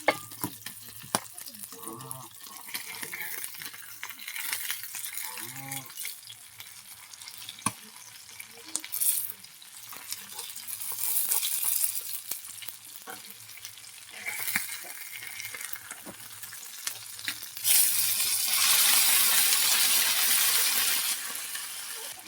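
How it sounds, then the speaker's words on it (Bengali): River fish fry in a pan and are turned over, a continuous crackling sizzle with clattering utensil sounds, swelling into a loud hiss toward the end. "সব মাছগুলো উল্টে দিয়েছি, ঢাকনা দিয়ে দেবো।"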